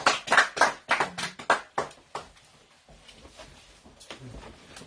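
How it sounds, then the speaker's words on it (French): A church congregation claps their hands in sharp, rhythmic bursts that are loud at first, then fade to a sparse, quieter patter. "En applaudissant le roi des rois"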